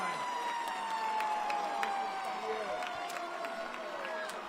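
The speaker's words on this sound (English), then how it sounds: "There goes that siren," A siren wails at a high school football game in Brunswick to mark a touchdown, a steady tone held over crowd noise and commentary.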